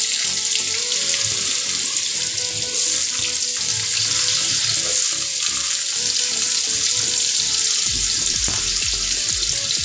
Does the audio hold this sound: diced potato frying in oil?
yes